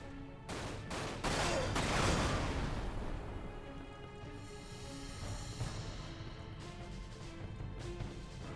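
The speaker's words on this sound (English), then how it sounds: "I usually fire in bursts when I play Soldier." Gunfire bursts in the video game Dirge of Cerberus: a quick cluster of sharp, loud shots early on, followed by decaying rumbling echoes and fainter scattered reports.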